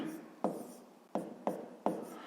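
Quick, separate scratching strokes of numbers written for a fifth-grade maths exercise, about four short marks close by and fairly quiet, each fading quickly.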